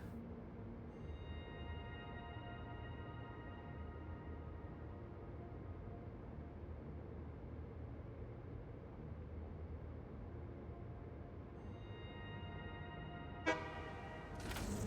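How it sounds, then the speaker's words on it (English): A train horn in the video game Satisfactory sounds a long, faint, sustained tone over a low rumble, then starts again near the end with a sharp burst. "There's a good old honk."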